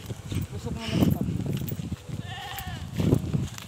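Goats on a farm bleat several times nearby, wavering cries mixed with someone talking and light shuffling and rustling.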